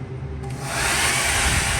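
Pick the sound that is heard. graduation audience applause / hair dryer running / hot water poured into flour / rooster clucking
hair dryer running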